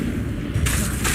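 Incendio fire spell cast in Hogwarts Legacy, a brief burst that flares into a bright whooshing blaze midway, with a low booming rumble beneath and a second flare near the end.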